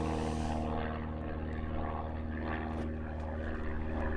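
A small aerobatic propeller aircraft passes overhead at an aerobatics championship, giving a loud, steady, droning engine roar with a buzzing propeller tone that holds throughout without pause.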